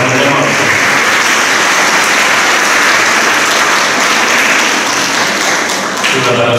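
Dense, loud applause from a church concert audience at a school Christmas concert in Paide, a steady wash of many hands clapping that tapers near the end as a voice begins.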